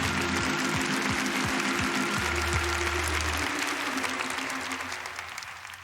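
A church congregation applauding during a sermon, steady loud clapping from many hands filling the room, with a low hum underneath, tapering slightly at the end.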